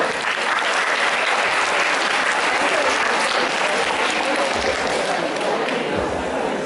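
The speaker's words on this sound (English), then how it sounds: "Let's have a round of applause for them." Sustained audience applause at a school Mathematics Day event, a dense, steady wash of clapping from a large crowd that stays loud and even throughout, with no pauses.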